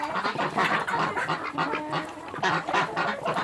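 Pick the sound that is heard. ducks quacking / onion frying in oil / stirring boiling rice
ducks quacking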